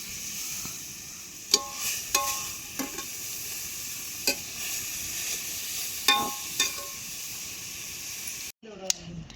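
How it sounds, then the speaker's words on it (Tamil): Grated carrot sautéing in ghee in a pan for carrot halwa, a soft continuous sizzle with intermittent scraping strokes of a spoon, and a voice speaking briefly near the end. "இப்போ துருவின கேரட்டை நெய்யில் வதக்கணும்."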